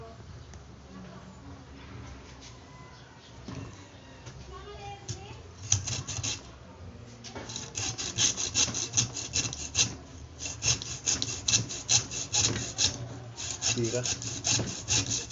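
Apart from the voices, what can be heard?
hand sawing with a saw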